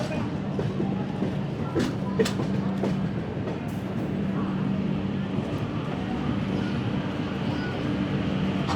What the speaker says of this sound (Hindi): तो हमारी ट्रेन नागपुर पहुंची है प्रीटी मच ऑन टाइम